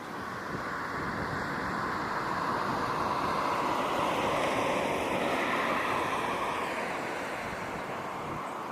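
Outdoor wind buffeting a microphone on a tripod, a continuous broad rushing roar that stays loud and steady throughout, with no voices.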